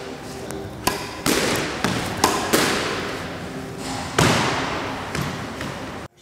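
A squash ball struck for a forehand lob feed on a squash court: a series of sharp hits and thuds echoing around the court, each decaying in the reverberant space, about half a dozen spread over several seconds.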